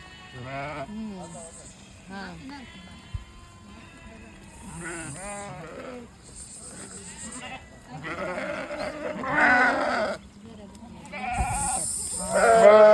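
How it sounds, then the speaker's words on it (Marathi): Goats brought onto a sprouting organic paddy field bleat repeatedly, several calls overlapping at close to moderate distance, some loud, amid light outdoor background. "बकरी येतील आता एवढ्यात"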